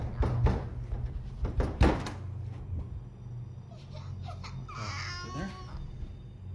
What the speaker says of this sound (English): a loud banging noise on the basement door is suddenly heard